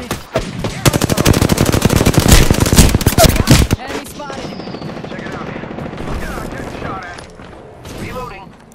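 Rapid automatic gunfire from an R-99 in a battle royale video game, a loud dense burst lasting several seconds, then quieter scattered shots and game effects with a voice speaking underneath.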